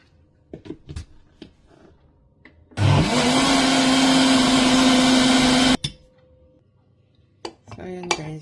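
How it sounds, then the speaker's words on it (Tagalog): A kitchen blender whirs loudly for about three seconds with a steady high whine, blending a rice cake mixture, between quieter clinks and handling sounds before and after. "Kunti pang blender."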